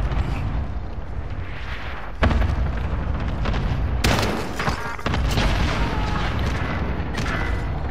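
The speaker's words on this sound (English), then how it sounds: "Cluster strike away." Cluster strike explosions in a video game land as a dense, continuous barrage of booms and rumbling blasts, with sharp bursts standing out near the middle and no talk over the steady roar.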